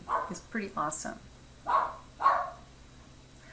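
A few dog barks sound in the background, two clearer ones after someone says a short phrase close by.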